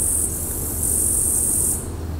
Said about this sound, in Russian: А вот кузнечики.